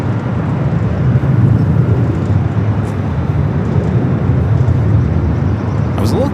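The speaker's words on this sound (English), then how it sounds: "We got our next heavy arrival, Virgin A350-1000, flight 7, coming from London Heathrow." Virgin A350-1000 heavy airliner arriving at LAX from London Heathrow, a steady loud broadband jet roar that holds throughout without breaks.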